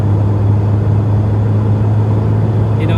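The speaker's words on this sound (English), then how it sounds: "See how we picks up speed. So 5th gear, and we're up to 70 already." A 40-year-old Vauxhall Cavalier accelerates in fifth gear toward 70, giving a steady low engine drone with a strong constant hum and road rumble from inside the cabin.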